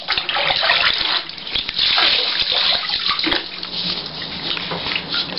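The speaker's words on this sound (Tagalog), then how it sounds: "Palabog na yung tubig." Water sloshing and splashing continuously as a child plays in a filled bathtub, fairly close and steady throughout.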